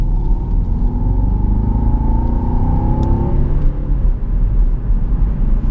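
Jaguar XF 5.0 V8 S in sport mode, its engine rising in a blipped rev with a sweeping pitch, then easing back to a steady deep rumble, loud and close with no talk.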